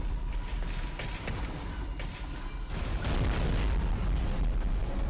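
Heavy mechanical door grinding and creaking open in Dead Space 3, a continuous loud metallic rumble with rattling mechanisms that swells louder toward the end, with no talk.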